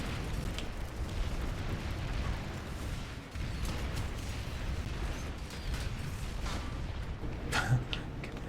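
Rocket impact on a lightly armored vehicle in PlanetSide 2, a sharp blast near the end rising over a dense, steady rumble of game combat noise and mechanical clatter.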